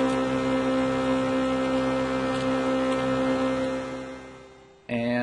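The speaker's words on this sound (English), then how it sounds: "It can take your typical sustaining atmosphere sound like this" A sustained ambient synthesizer pad holds a steady, drone-like atmospheric tone at even volume, then fades down near the end before a brief new sound enters.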